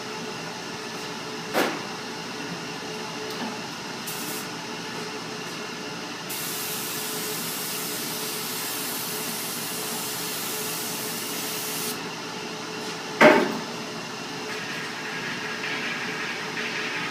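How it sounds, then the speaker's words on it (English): Hydrographic activator is sprayed onto carbon fiber film in a steady, fairly quiet hiss that lasts several seconds over background noise, with a couple of brief knocks before and after. "So I'm going to go ahead and apply the activator and we'll do our dip."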